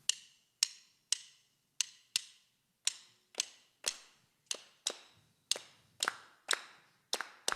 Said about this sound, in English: The main rhythm that we inherited from Africa, everybody clap with me.